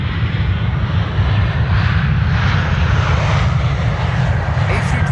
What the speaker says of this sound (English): A320 from ITA having arrived here from Rome, flight 108